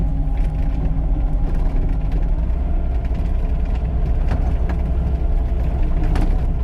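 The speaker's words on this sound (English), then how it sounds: "we are going to try to load the bucket of the tractor a little bit more effectively" A tractor engine runs steadily at close range while its bucket is loaded at a pond dig site, a loud continuous rumble with light mechanical clanks and rattles over it.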